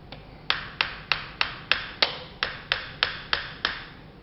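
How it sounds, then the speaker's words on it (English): A hammer taps a rail cover onto an AR-15 in about a dozen sharp, evenly spaced knocks, close and moderately loud. "Be prepared that you might have to tap it on with a hammer."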